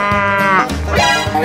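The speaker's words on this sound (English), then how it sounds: "Cow." A cow in a 3D animal video game lets out loud, close, drawn-out lowing calls, two or three in quick succession with a bleat-like waver.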